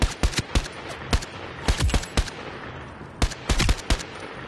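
An AKM rifle fires in the Zero Caliber 2 VR game, sharp loud reports in short bursts and single shots with gaps between volleys.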